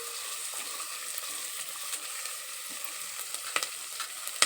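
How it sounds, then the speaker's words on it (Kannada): Chopped beans and carrots fry in oil in a pan, a soft continuous sizzle with light stirring clicks and a few sharper taps near the end, close and fairly quiet. "ಎಣ್ಣೆಗ ಚೆಂದ ಫ್ರೈ ಆಗ್ಬೇಕು ರೀ."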